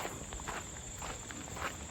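Faint footsteps crunch steadily along a forest trail, a soft, even walking rhythm with no voices.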